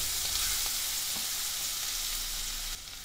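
Ground garlic masala paste for vada pav frying with curry leaves in a pan while being stirred, a dense close sizzle with faint spoon scrapes, no voices.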